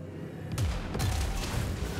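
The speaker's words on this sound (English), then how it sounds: "Oh, you're gonna hit him with your cannon." Video game cannon fire, with a heavy booming shot and impact against an enemy unit on the front line, dense rumbling blasts layered over one another and no talk.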